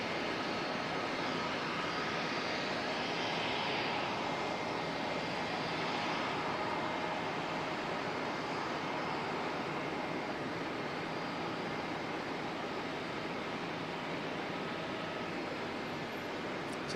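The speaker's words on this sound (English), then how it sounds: "Barrier Air Cessna Caravan." A Barrier Air Cessna Caravan at Auckland Airport produces a steady, fairly distant turboprop drone that holds evenly for the whole stretch with no voices.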